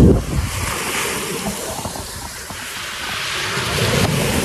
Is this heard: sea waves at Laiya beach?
yes